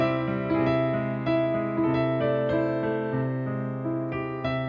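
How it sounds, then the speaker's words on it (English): Piano sounding an augmented chord, held and re-struck several times in a slow, even rhythm, ringing clearly and close with sustained harmonics and no voices. "That is the sound of your augmented chord."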